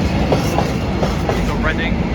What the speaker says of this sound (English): Behind me, the 387 for London Paddington.